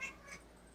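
A cat gives a couple of faint, brief meows close by in a quiet indoor room, with no talk.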